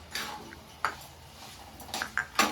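Ladle scraping and clinking against a pot while fish curry is stirred, in a few irregular metallic knocks and scrapes at moderate loudness, with no talk.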